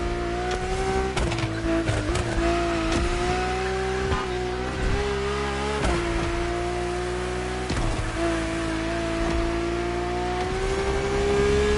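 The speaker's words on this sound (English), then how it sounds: "Drift car is powerful as hell. With so many horses, they'll try to run wild with every acceleration." A powerful drift car in the racing game Motorfest revs hard and accelerates, its engine note climbing and dipping through gear changes with tire noise, loud and continuous throughout.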